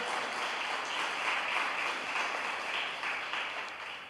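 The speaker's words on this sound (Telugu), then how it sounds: "కొట్టండి చప్పట్లు గట్టిగా, అందరూ కూడా" A church congregation claps together in a dense, continuous burst that holds steady and eases off slightly at the end.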